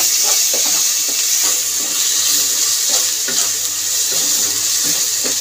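Kharkol leaf paste with boiled green chilli fries in a pan with a constant, loud hissing sizzle, broken by faint scrapes of stirring throughout.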